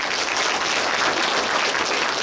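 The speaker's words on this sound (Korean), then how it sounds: "우리 공무원 여러분께 큰 박수 한번" A crowd at a county community meeting in Buyeo applauds, a dense, steady wash of many hands clapping at once, even in loudness throughout with no speech over it.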